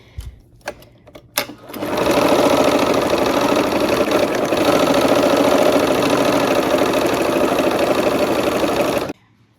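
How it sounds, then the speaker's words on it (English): A sewing machine stitches quilt block pieces together, starting after a few soft clicks and handling sounds and then running in one loud, steady, close hum for about seven seconds before stopping abruptly. "here we are at the machine. And we're just sewing these down here"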